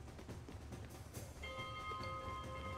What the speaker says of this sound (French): Je vais sonner la cloche pendant que j'y suis.